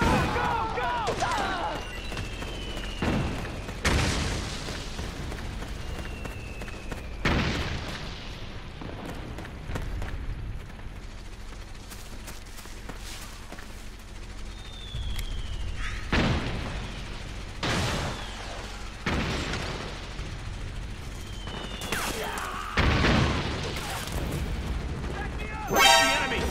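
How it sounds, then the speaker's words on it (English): Metal Gear Solid 4 battle with suppressing gunfire and explosions: repeated sharp bursts and booming blasts punctuate a busy backdrop, spaced irregularly across the stretch, with occasional whistling projectiles and a voice speaking in between. "Suppressing fire."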